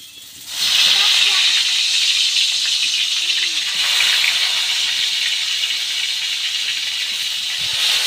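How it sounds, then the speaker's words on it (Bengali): Long slices of eggplant hiss loudly in hot oil, a steady, close, broadband sizzle that starts abruptly and holds for several seconds without talk. "লম্বা লম্বা লম্বা করে হচ্ছে বেগুন ভাজা"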